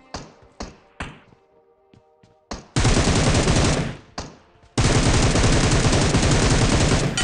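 PUBG gunfire starts as a few sharp single shots and taps, then turns into two long, loud bursts of rapid automatic fire that knock down an enemy, with a short pause of single shots between the bursts.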